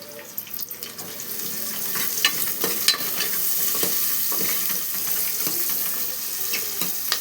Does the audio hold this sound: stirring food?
yes